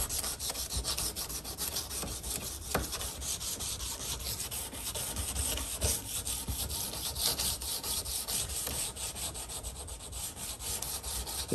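An old German knife, about 80 years old, rubbed by hand with 220 grit sandpaper, a steady, close, continuous rasping scrape with no pauses and no voices.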